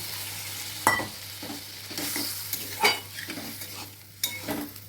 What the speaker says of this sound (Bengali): কাঁচা লঙ্কা সামান্য একটু কাশ্মীরি লঙ্কার গুঁড়ো দিলাম দিয়ে একটু জল দিয়ে দিচ্ছি